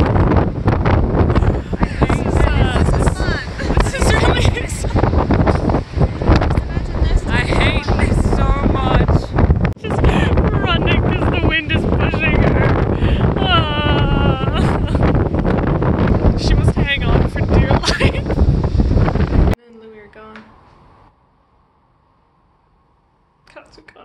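Strong wind buffets the microphone outdoors during a convention trip, a loud continuous roar with people talking and shouting over it. It stops abruptly near the end, leaving a faint indoor hum.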